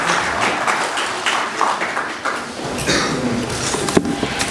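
A stage audience claps to welcome a guest at a Pakistani comedy show, dense sustained applause with scattered louder claps throughout.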